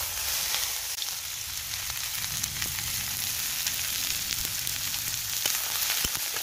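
Chopped onions frying in mustard oil in a pan, a steady close sizzle and crackle with occasional sharp pops and spatters throughout.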